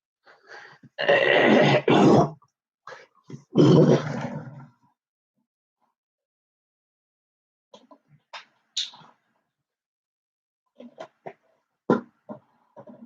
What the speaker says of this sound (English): Oh man, I can't clear my throat.